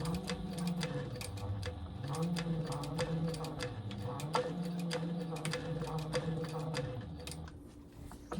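A sewing machine back stitching across a sling bag runs in a steady rapid clatter of needle strokes, with brief pauses and changes in pace, close and continuous.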